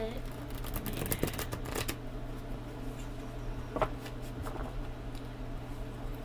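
Soft papery riffling of tarot cards being shuffled in a couple of quick bursts, close by, followed by quieter handling over a low steady hum.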